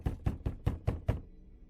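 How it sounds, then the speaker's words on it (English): Six sharp knocks on a door at night, evenly spaced and close, with a brief silence after the last one. "there was a knock at the door."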